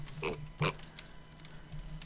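Two short pig oinks from the video game Balrum come close together, followed by a fainter grunt, quiet over a low steady hum.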